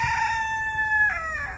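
A backyard chicken crows once, loud and close, in a sustained, wavering call that drops in pitch toward the end, with no one speaking.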